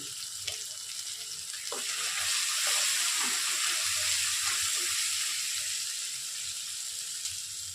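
Ginger and turmeric frying with onions in a pan, a loud, steady bright sizzle that swells in the middle, with soft stirring scrapes underneath.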